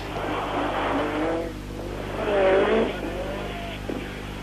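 Lancia S4 rally car on a stage of the 1986 Monte Carlo Rally, its engine rising and falling in two revving surges as it passes, moderately distant and fairly quiet.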